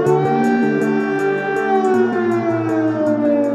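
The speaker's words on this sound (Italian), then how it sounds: "Ogni tanto, la notte, per la città risuonavano le sirene dell'allarme aereo" Air raid siren wailing loudly and steadily over a city at night, a layered, continuous tone with slowly shifting pitch and no pauses.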